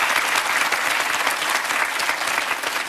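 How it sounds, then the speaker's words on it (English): Studio audience on a quiz game show breaks into loud, sustained applause, a thick wash of clapping that stays full and even from start to finish. "Give him a big round of applause."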